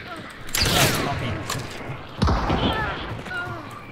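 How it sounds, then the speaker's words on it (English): Two loud shotgun blasts in a video game, about a second and a half apart, each with a sharp attack and a decaying tail, set against background game noise. "Shotgun."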